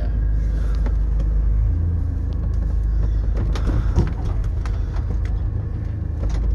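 A wheelchair van fitted with hand controls drives along, its engine producing a steady low rumble with a few faint knocks and clicks from the cabin, heard up close from inside.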